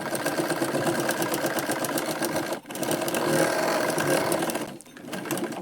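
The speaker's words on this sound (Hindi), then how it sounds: "तो अब इस पर मैं सिलाई करके इसकी फिटिंग कर दूँगी फिक्स वाली।" A sewing machine stitches a katori blouse, running in a continuous rapid mechanical whir that stops briefly twice before resuming, close and steady with no voices.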